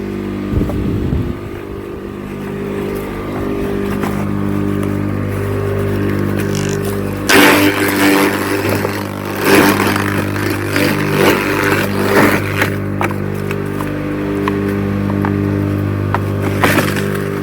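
A garden branch chipper shreds thin twigs outdoors, its steady motor drone broken by loud crackling, chattering bursts as branches are fed in and chewed apart.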